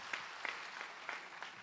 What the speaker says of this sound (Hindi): एक बार तालियां ऊपर से सब बजा देंगे तो अच्छा लगेगा